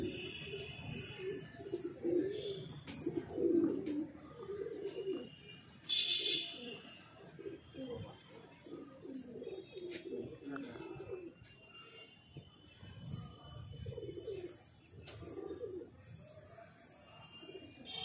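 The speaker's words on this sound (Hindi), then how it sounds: "तो जा रहा है कबूतर।" Pigeons coo softly and repeatedly, their low throaty calls rising and falling close by, with occasional chirps and wing rustles as the flock moves.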